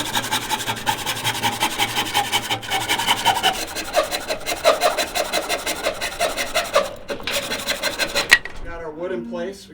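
Rough sawing of wooden boards for a cattle trailer bed, a steady rasping stroke rhythm for most of the clip, close and fairly loud, ending in a brief scrape.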